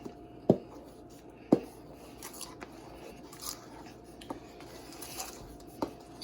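Flour is stirred into Jamaican Christmas cake batter, giving soft scraping and rubbing with a few sharp spoon-against-bowl clinks at irregular intervals, quiet and close with no talking.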